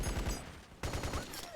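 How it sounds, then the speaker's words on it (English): Rapid, loud bursts of automatic machine gun fire in Metal Gear Solid 4 rattle in quick succession, pausing briefly before a fresh burst starts up. "This game needs a volume slider for the machine guns."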